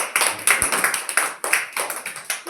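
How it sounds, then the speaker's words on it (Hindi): Loud, rhythmic hand clapping by a group of schoolchildren during a classroom shapes activity, about a dozen sharp, evenly spaced claps in quick succession with no talking. "जोर से ताली बजा दो।"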